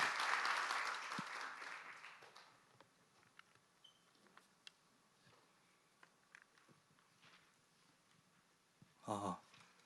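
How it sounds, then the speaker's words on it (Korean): An audience at a university project showcase claps to welcome a presenting team. A burst of applause opens the clip and quickly dies away into a quiet room with scattered faint taps and one short noise near the end. "박수로 맞이해 주시면 감사하겠습니다."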